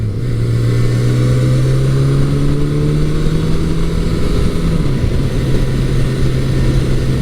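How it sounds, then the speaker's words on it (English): A 1983 Suzuki GS1100E motorcycle with stock exhaust hums steadily underway, its engine tone rising smoothly then dropping as it shifts, with rushing wind noise close and constant throughout. "The engine sound is nice."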